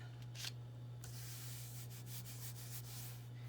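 Paper is rubbed over a painted stencil to lift a print. Soft, scratchy swishes come in short bursts, faint and close, over a steady low hum, with no speech.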